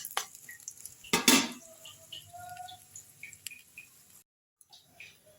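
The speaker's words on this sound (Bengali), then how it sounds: "এগুলো আমি একটু ভালো করে নেড়ে নিচ্ছি।" Whole cumin, dried red chilli and bay leaves stirred in hot mustard oil in a pan, with a loud burst of utensil scraping early on and light clinks and faint sizzling continuing close by, no talk.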